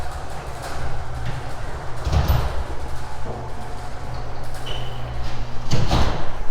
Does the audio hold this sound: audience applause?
no